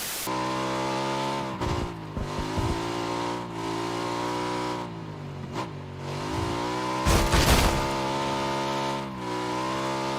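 A car engine in the video game PUBG humming loudly and steadily throughout, with a few brief noisy bursts breaking over the drone.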